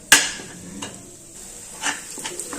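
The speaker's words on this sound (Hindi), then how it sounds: "लो फ्लेम पे लगातार चलाते हुए सूजी को हम 8 से 10 मिनट के लिए चलाते हुए अच्छे तरीके से भून लेंगे" A spoon scrapes and clinks around a kadhai while semolina roasts over a low flame, with a few sharp metallic knocks separated by softer stirring and a faint sizzle.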